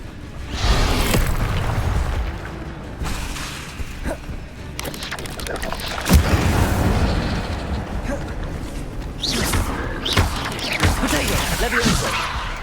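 Spell combat in a Hogwarts video game, with an Incendio fire spell among the casts, sends out repeated booming bursts and crackling blasts over a constant low rumble across the whole stretch, some hits sharper and closer than others.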